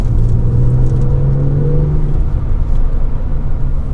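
A Porsche 996 C4S fitted with coilovers is driven through a series of corners, its engine a steady loud mid-range drone that rises in pitch and then drops back over a constant road rumble, with no voices.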